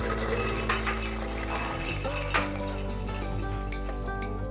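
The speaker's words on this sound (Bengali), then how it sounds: "এগুলো প্রেসার কুকারে দিয়ে দেব, সাথে দেব জল।" Water runs steadily into a pressure cooker holding soaked peas and chickpeas, a continuous close pouring and filling sound with a faint clink partway through.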